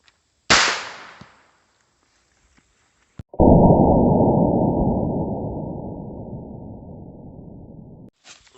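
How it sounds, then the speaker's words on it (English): A .22 Long Rifle round fired into a coconut filled with ballistics gel gives one sharp, loud crack that decays quickly. A long, steady hiss-like rush follows after a pause, then a brief click at the end. "shoot a coconut filled with ballistics gel with a 22 long rifle"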